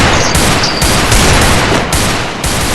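Dense, sustained gunfire in the battle-royale game Free Fire, with rapid overlapping shots, several bursts stacking into a loud continuous barrage.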